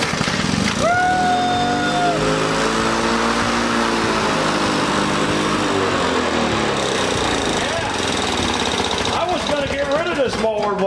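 A 1974-75 Lawn Boy mower engine with a badly scored piston runs steadily and loudly throughout, a close, buzzing drone with a few shifts in pitch, while someone talks over it.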